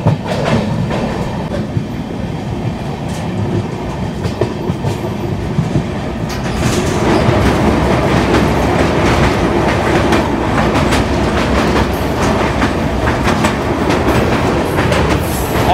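The Sairang–New Delhi Rajdhani Express on its run from Aizawl toward Delhi, heard as a loud, constant rumble with rhythmic clickety-clack from the wheels, growing heavier and busier partway through.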